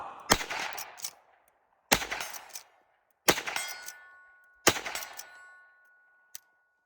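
Four loud, sharp gunshots from a .357 Magnum firearm at an outdoor gun range, each a separate crack followed by a short decaying echo, spaced about one and a half seconds apart, with a faint metallic click near the end.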